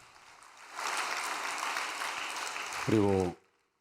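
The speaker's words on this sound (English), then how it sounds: "Why don't we give them a big round of applause?" An audience at a Korean church gathering applauds in a steady, full burst that stops abruptly, with a brief tonal sound near the end.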